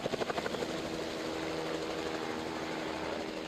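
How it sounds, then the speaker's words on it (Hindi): Helicopter rotor noise from a B-3 helicopter on a trial run in Kashmir, a dense steady drone with rapid blade thumps clearest at the start, loud and continuous with no voices. "ट्रायल रन पर आए B-3 हेलीकॉप्टर्स को फौरन वापस कश्मीर भेज दिया जाता है।"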